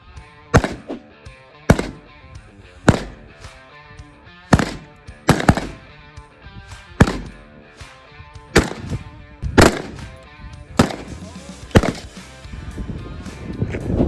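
AR-15 rifle shots ring out on an outdoor shooting range, sharp loud cracks fired one at a time at uneven intervals over about fourteen seconds, with echoes between them.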